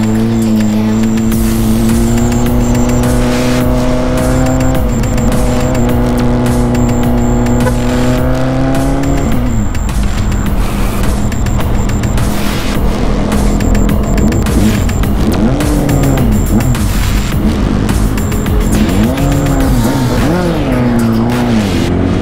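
A car with a loud exhaust drives along. The engine drones steadily, then rises and falls through repeated revs, close and loud throughout.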